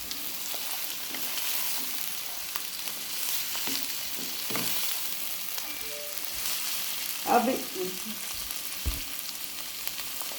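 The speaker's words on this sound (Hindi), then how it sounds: "अब हम इसके अंदर डालेंगे टमाटर।" Hand-cut tomatoes dropped into frying keema cooked with whole spices: a continuous hiss of hot oil with scattered crackles and a few louder spatters and stirring clatters, steady throughout without talk.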